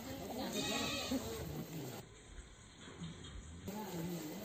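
A goat bleats several times close by in a farmyard, the calls rising above background voices, with a brief quieter stretch midway before the noise returns.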